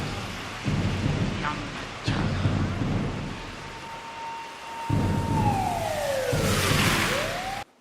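Approaching typhoon in the 2002 film Godzilla Against MechaGodzilla: heavy rain hisses steadily while loud thunder claps and rumbles break in, with a long descending whine sweeping through the storm near the end.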